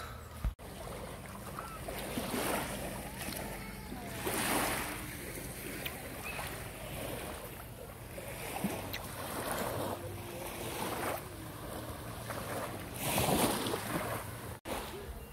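Sea waves washing ashore at Tanguá beach in Angra dos Reis, Rio de Janeiro, a calm bay with few waves, heard as a steady wash of water and wind with soft swells rising and falling every few seconds.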